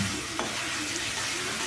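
Pasta being stirred with chilli sauce in a frying pan, a steady close sizzle with a brief scrape of the utensil near the start.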